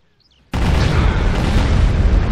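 Orbital bombardment explosions from the strategy game Star Wars: Empire at War, Forces of Corruption: after a brief quiet moment, a sudden loud, dense roar of booming blasts sets in and holds steady and powerful to the end.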